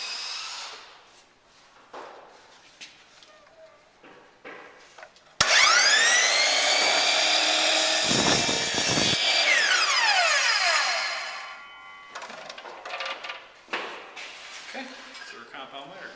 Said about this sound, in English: I'm going to make a compound miter cut.